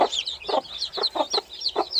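Two broody hens cluck in a steady run of soft, low, close calls while their chicks huddle against them, with faint high peeping from the chicks throughout.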